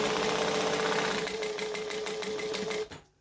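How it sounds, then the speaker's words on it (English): A sewing machine stitches and back stitches along the edges of a canvas bag, a fast, even run of needle strokes that stops abruptly near the end. "So we're going to stitch and back stitch to lock in that end."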